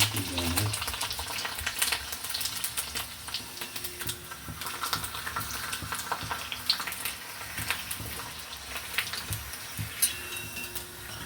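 Papad crackles and sizzles in hot oil, with sharp popping bursts over a constant frying hiss, close and fairly loud.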